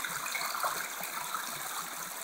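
Creek water flows in a steady, even rush, a continuous moderate gurgling wash with no voices over it.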